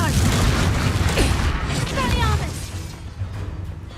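A Confringo spell explosion in Hogwarts Legacy: a loud, crashing fiery blast with crackling debris and a descending whistle, fading over a few seconds.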